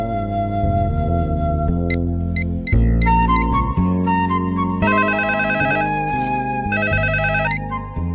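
A telephone ringtone plays a loud, continuous electronic melody with shifting tones for about eight seconds in an indoor comedy scene, with no talking.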